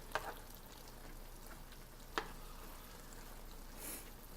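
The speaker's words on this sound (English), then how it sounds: "I'm letting my meat cook a little bit right now." Ground meat for burritos frying quietly in a pan, a steady low sizzle with a couple of brief clicks or stirs; no talking.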